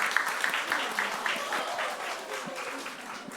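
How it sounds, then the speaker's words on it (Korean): A church congregation claps for a couple at a discipleship class graduation ceremony, a brief, moderately loud round of many hands that fades gradually. "네, 박수하겠습니다."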